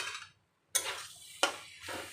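A spoon stirs a vegetarian taro curry in a cooking pot, making a few short, soft scraping strokes against the pot with brief quiet gaps between them. The strokes are close and fairly faint.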